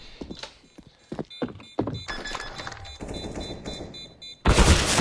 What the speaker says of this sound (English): He loses to Onyx at headshot